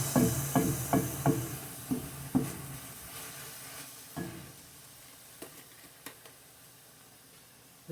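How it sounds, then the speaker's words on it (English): Oriental vegetables and rice sauté in a pan, giving quiet sizzling with a series of soft clatters from stirring that thin out into faint hissing. "Just saute that just a hair in just a second."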